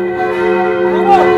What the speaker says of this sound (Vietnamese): bộ chuông mới đang được rung lên trên